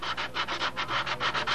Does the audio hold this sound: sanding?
yes